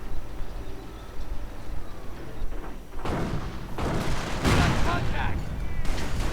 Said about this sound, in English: advancing sniper fire, rifleman fire, anti-tank gun fire, all sorts of fire